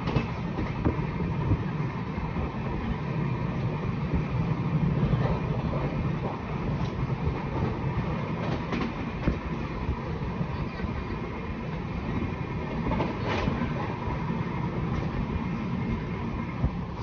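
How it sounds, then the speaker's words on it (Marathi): A Mumbai local train runs near Borivali station with a continuous rumble, a steady roar and occasional rattles that stay loud throughout. "ही आहे मुंबईची लोकल ट्रेन"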